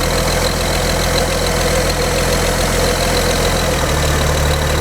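An old engine idles during a fuel system check and run, settling into a loud, steady low rumble with a faint knocking pulse close to the listener, running alone without speech.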